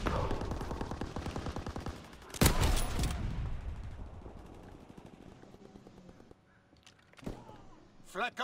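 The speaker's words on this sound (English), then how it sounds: "Flak guns firing. Clearing the skies." Flak guns pounding in a WWII shooter game, a dense rapid string of booming shots with a louder burst midway, then sparser blasts toward the end, with voices over the firing.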